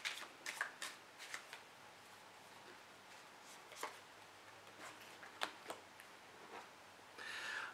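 An oracle card deck is shuffled in quick papery riffles and flicks, in soft bursts with short pauses, close and quiet, with a louder ruffle at the end.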